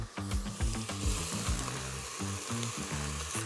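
Thinly sliced leeks hitting a hot pot for a winter stew, bursting into a sharp crackling sizzle with scattered clicks and pops of stirring throughout.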